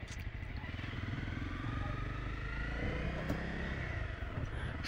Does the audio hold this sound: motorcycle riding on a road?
yes